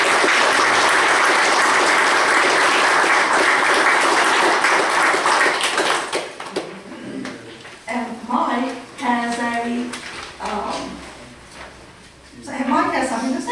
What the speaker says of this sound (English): So let's give a round of applause to the motorcycle.